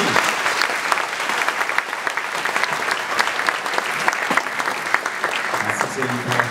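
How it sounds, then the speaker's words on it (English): A school audience claps for a Year 6 class at a graduation ceremony, sustained, crisp applause from many hands with individual claps standing out, holding steady to the end. "And one more great big round of applause for 6E."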